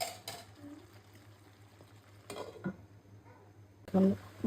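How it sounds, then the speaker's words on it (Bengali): Beef being sautéed and stirred in a pot for a beef korma, heard as a few faint scraping stirs and sharp utensil clinks over a quiet low hum, with a louder clatter near the end. "গরুর মাংসটা কষানো হচ্ছে"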